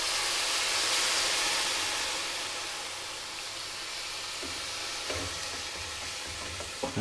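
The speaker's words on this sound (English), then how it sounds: "It's very important you keep stirring as you add your stock" Stock is stirred into a pea and mint risotto in a pan, giving a steady close sizzle and steamy hiss, with soft spoon scrapes and small knocks toward the end and no voices.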